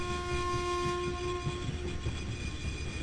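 A train rolls past in the video game INFRA, its horn blowing steady sustained tones over a loud, continuous rumble of wheels and cars for the whole stretch, with no talking.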